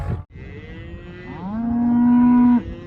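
A cow lets out a single long, loud moo close by on a farm, rising then holding steady for over a second before cutting off, with no talk over it.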